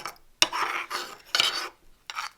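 A spoon scrapes around a bowl, smoothing out lumps in a creamy vegan sauce mixture before yogurt goes in: four separate rasping stirring strokes, close and clear, with short pauses between them.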